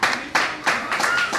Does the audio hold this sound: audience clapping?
yes